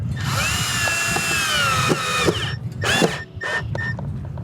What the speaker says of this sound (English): in order to drill something, you have to push